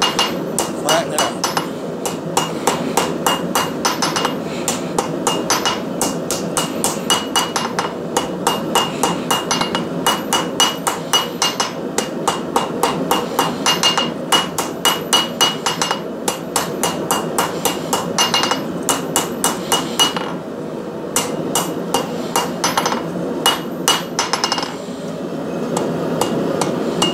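Steady hammer blows ring out on thin metal being flattened while forging a pan, a fast, regular run of sharp metallic strikes that continues almost without pause and carries a faint clink at each hit.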